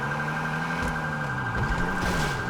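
A car horn in a roleplay video game sounds as a long, sustained, steady blare, loud and continuous beneath engine hum and faint background noise, with no talk.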